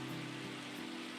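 Steady rain ambience from the game Minecraft, a dense even hiss of rainfall holding at a constant low level throughout with no voices.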